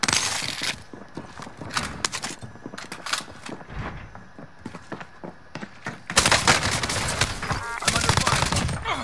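Gunfire in Warzone Rebirth Resurgence pops in scattered shots and rapid bursts, growing heavier and more sustained toward the end, with weapon handling clatter and occasional voices mixed in.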